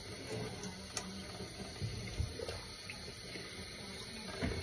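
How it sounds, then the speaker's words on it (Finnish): Water runs softly and steadily through a Miele CM6350 coffee machine, a faint continuous trickle with small clicks and handling noises close by. "Täältä näkyy, että vesi tulee läpi."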